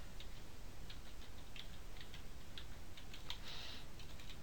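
A password typed on a computer keyboard, a steady sequence of soft, evenly spaced key taps over a constant background hiss, with no one speaking.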